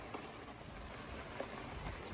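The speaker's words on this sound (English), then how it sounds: "Look at these hail." Hail pelts a sailboat in a steady dense patter, a continuous roar of small impacts with a few sharper hits, no voices over it.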